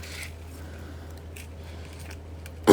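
A single sharp snip of a cutter through thin 0.3 mm black jewelry wire for a wire-wrapped flower ring, heard close at the very end after near silence.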